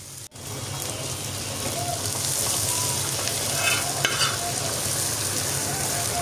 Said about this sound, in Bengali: এখন এগুলো আমি কড়াইতে ঢেলে দিচ্ছি।